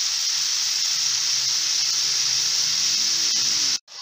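Mung bean sprouts are added to a hot pan where carrots are already sautéing for a sprout and ampalaya mix, giving a loud, steady sizzle and hiss that holds evenly and then cuts off abruptly near the end.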